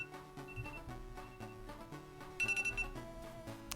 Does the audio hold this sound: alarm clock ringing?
yes